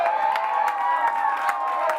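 A crowd of university students cheers loudly at a college sports event, with a constant wash of shouting and whoops and brief bursts of higher yells.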